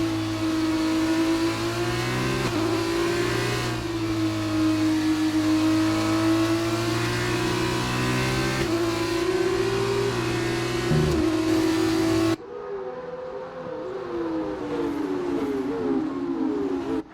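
A Formula 2 race car with DRS open in F1 2019, racing at the Circuit de Barcelona-Catalunya in Spain, screams through rising engine pitches with quick gear shifts, loud and close, then drops to a thinner, more distant whine.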